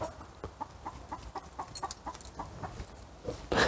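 A homestead chicken clucking and squawking in alarm, a run of repeated sharp calls at a steady pace, fairly close, ending in a louder burst of commotion.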